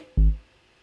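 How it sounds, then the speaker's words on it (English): A single short, deep synthesizer bass note from an Elektron Digitakt, loud and dry, fading quickly into silence. "Then we have the next sound that is like the bass sound."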